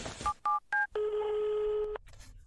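Three short dialing beeps sound in quick succession, then a long steady electronic tone holds for about a second before cutting off, an office phone call failing to connect.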